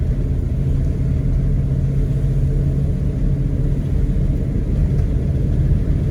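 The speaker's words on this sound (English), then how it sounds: "smooth acceleration into second gear." An older car's engine pulls steadily while accelerating in second gear on a winter road, a loud, constant low rumble with no pauses.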